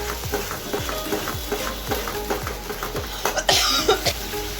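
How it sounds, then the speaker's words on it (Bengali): Spice paste of fennel, cardamom and cinnamon frying in oil while stirred: a close sizzle with regular rhythmic scraping strokes of a spatula, then a brief louder burst of crackling near the end, no talk. "দিয়ে মশলাটাকে ভালো মতো কষিয়ে নেবে যতক্ষণ না তেল ছাড়ছে।"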